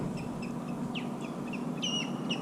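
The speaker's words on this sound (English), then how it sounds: "It's so weird to hear the birds" Small birds chirp outdoors in Matlacha, Florida, with short, faint high calls scattered over a steady background hum, a few notes coming in quick pairs.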